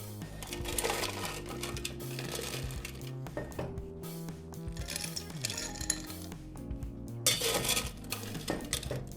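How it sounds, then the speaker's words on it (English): Ice cubes are dropped into a highball glass, clinking and clattering in irregular bursts over several seconds, close and fairly crisp, with a pause and a final scoop added. "Now we need a highball glass, fill it with ice."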